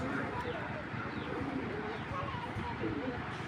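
Breeding racing pigeons coo in a loft, soft low rolling calls repeating under a man's close, steady talk.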